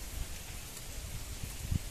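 Rain falls outside with wind on a cold day, making a soft, continuous hiss at a faint level with a few small thuds. No voices are heard.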